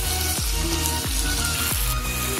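Sugar added to tomatoes cooking in a pan for tomato chutney with cashews and raisins sizzles loudly and continuously, close up, with a few rhythmic clanks recurring about every half second.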